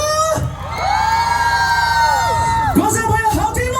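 A concert audience at a live show in Guanshan, Taiwan, cheers and applauds loudly in a sustained crowd roar with whoops, while music tones ring over it throughout.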